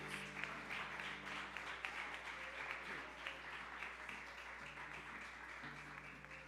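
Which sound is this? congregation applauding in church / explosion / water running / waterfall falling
congregation applauding in church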